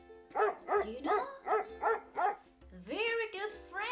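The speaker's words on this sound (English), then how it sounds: "It's a dog." A big dog barks about five times in an even rhythm, loud and close, followed by a drawn-out whining yelp.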